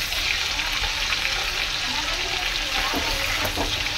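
Continuous crackling sizzle of hilsa fish frying in hot oil, steady and close, with a few faint scraping sounds toward the end as it is flipped.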